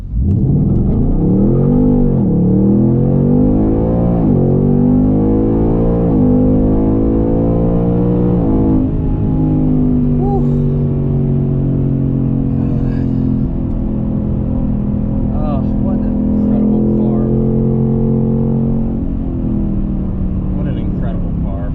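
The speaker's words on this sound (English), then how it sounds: "I'm going to come to a stop and just floor it." A 2021 Ford Mustang Mach 1 launches hard from a standstill, its engine note climbing through several rising sweeps as it shifts up, then holding a loud, steady roar close by.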